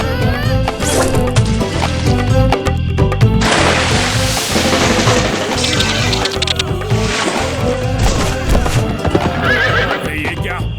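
A cartoon horse gallops with quick, rhythmic clip-clop hoofbeats and neighs loudly, close and busy over bright cartoon music and sound effects.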